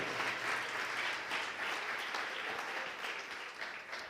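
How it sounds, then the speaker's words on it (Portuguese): A church congregation applauds together in steady, dense clapping that fills the whole stretch at moderate volume, with no clear speech over it. "Você pode aplaudir o Senhor?"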